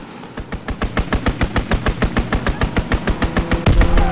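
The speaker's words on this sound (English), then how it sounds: "Strafing the target." Rapid automatic gunfire from a fighter plane's strafing run in Call of Duty: WWII, a steady burst of about twenty evenly spaced loud shots lasting several seconds and ending in a heavier impact.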